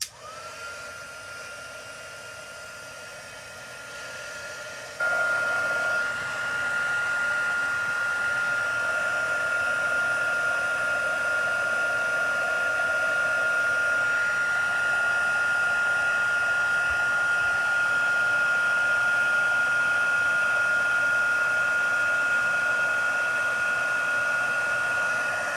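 A heat tool for embossing in card making blows steadily and close for about twenty-five seconds, a constant whooshing whine that gets louder after the first few seconds, with no talking.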